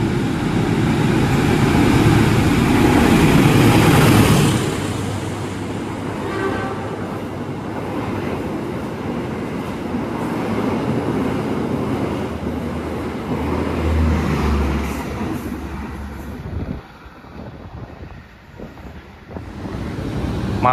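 A fast train rushes past close by near Kroya station, a loud, sustained roar with wind buffeting that holds for about fifteen seconds, then drops away to quieter station ambience.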